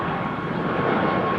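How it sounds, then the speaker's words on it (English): Airbus A220 (Bombardier C-Series) jet departing Amsterdam Schiphol, a brief steady engine roar with a slight swell toward the end, alone with no voices. "Bombardier C-Series"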